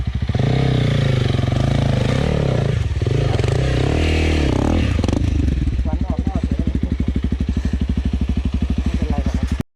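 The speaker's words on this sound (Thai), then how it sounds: "เปิดคันเร่งกว่านี้หน่อย" A Honda CRF300L motorcycle climbs a hill, its engine revving hard with clattering and scraping, then settling into a rapid rhythmic thumping pulse, while voices shout over it.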